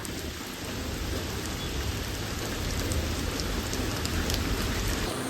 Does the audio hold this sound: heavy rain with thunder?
yes